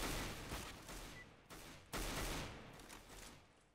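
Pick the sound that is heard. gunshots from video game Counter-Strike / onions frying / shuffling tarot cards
gunshots from video game Counter-Strike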